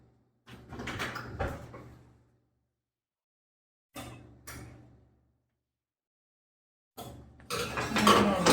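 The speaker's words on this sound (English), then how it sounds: "Now we're going to stick them in the oven." Oven door clatters open with metal-on-metal knocks and sliding scrapes, a pause, then more short thuds and a bright rattling clank as the marinated corn on the cob goes in, close and fairly loud.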